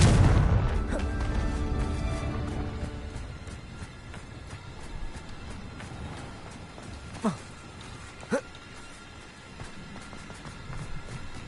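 Confringo blast spell in Hogwarts Legacy, a loud explosive burst at the start fading into rumbling debris, followed later by a couple of sharp short pops.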